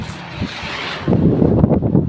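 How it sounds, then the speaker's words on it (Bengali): Wind blows outdoors near a cattle farm, a soft airy rush that turns into heavy, rumbling gusts buffeting the microphone halfway through. "এমনি তো বাতাস আছে"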